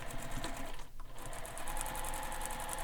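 A sewing machine stitching fabric onto foam for a backpack, its fast, even mechanical whirr of needle strokes running continuously with a brief dip near the start, close and moderately quiet.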